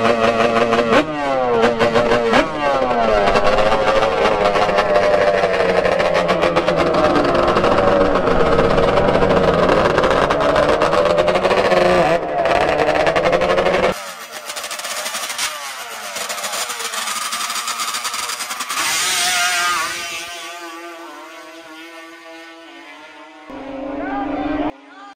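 Yamaha Banshee ATVs drag racing in Florida, loud two-stroke engines screaming and revving up close, then cutting off and re-revving, with crowd voices and shouts mixed underneath.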